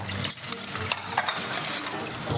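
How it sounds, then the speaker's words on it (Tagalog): Dishes and cutlery clattering and scraping during washing up, close and busy, with irregular clinks and knocks throughout. "sa duty ni na Dustin at AZ para maghugas ng pinggan"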